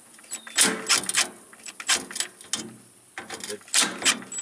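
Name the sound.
Makita 1/2-inch drive impact wrench on nuts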